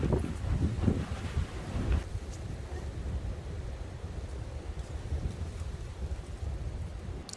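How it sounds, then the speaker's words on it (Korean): Strong wind gusts buffet the microphone on a mountain ridge near Woraksan's Habong peak. The roar is loud and turbulent, with heavier rumbling bursts in the first two seconds that then ease into steady, rushing wind noise. "오늘 바람 정말 심하다."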